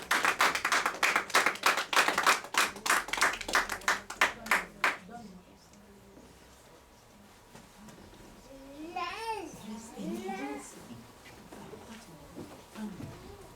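A church congregation clapping at an Easter service, loud rhythmic claps for about five seconds, then fading out as children babble and a voice speaks over quieter background.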